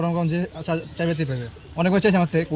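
Pigeons coo in repeated, throaty rolling phrases, close and fairly loud, with a short pause in the middle.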